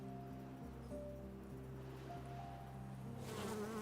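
Bees buzz softly in the beaver colony-building game Timberborn, a faint steady insect drone under tonal background music, with a brief brighter rustle near the end.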